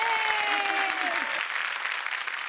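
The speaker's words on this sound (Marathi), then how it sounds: "जोरदार टाळ्या." Studio audience applause on a Marathi TV comedy show, a dense steady wash of clapping that carries through, with a musical sting and tones fading out over the first part.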